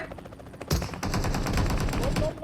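Rapid automatic gunfire in PUBG Mobile, a loud close burst that starts abruptly and keeps rattling continuously to the end, with a faint voice underneath before the shooting begins.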